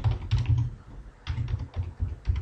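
Fingers typing a username and password on a computer keyboard, a close run of quick, uneven clicking bursts with short pauses between them, and no voices.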